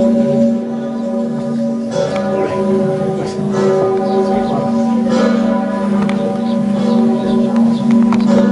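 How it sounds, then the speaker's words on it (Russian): Church bell ringing in Krakow, a steady sustained tolling with strong lingering harmonic tones, heard continuously and fairly loud over a faint background. "Колокол"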